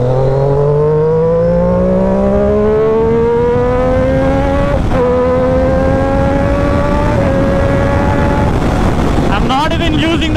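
Triumph Daytona 675R motorcycle engine revving hard and climbing through the gears, with quick shifter gear changes cutting in sharply without the clutch, loud and close over steady wind rush, ending in a burst of rapid high revs.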